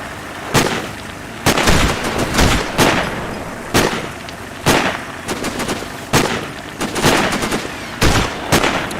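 Gunfire in the Sniper Ghost Warrior video game, with loud, sharp shots and short rapid bursts cracking out at irregular intervals, close and punchy with brief gaps between volleys.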